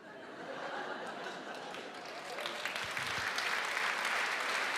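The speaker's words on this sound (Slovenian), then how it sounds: "Zdaj ne vem, kaj ta aplavz pomeni, ne?" Audience applause in a television studio rises gradually to a fuller, denser clapping with a few scattered chuckles mixed in, moderately loud and continuing throughout.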